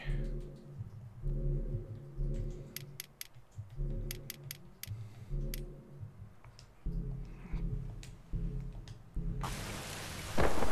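Game rain and thunder in The Last of Us: a steady patter of rain under low rumbling thunder, with sharp clicks scattered throughout and a sudden burst of loud hiss at the very end.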